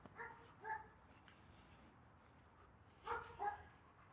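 Faint dogs bark a few times in the distance, two short clusters of yaps heard over steady outdoor background noise during a basic obedience walk.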